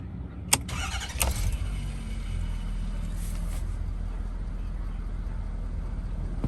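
A 2011 Ford F250 Lariat with a 6.7 Powerstroke diesel engine, 139,000 miles, cranks with sharp clicks and catches, then settles into a steady, loud diesel idle close by.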